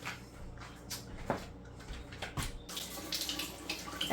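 Hot tap water runs steadily into a pressure canner for canning green beans, a continuous splashing wash with a few brief clunks and bumps over it, growing a little louder near the end.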